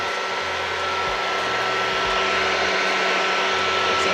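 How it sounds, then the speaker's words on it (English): A heat gun blows hot air steadily at close range while working on a Rover 100 / Metro, a continuous loud whooshing hiss with a low motor hum underneath that stays even throughout. "So let me get the heat gun and we'll try that."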